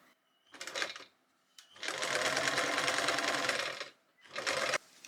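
A sewing machine topstitches a denim waistband in three loud, close bursts of rapid needle chatter, a short run, a longer steady stretch, and a final run, with quiet between them.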